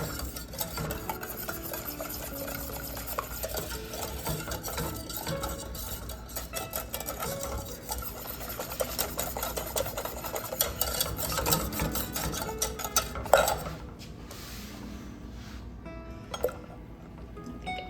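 A spoon or whisk stirs chocolate meringue pie filling in a pot over a power burner, making a steady, continuous scraping and swishing that runs throughout with a few brighter clinks near the end.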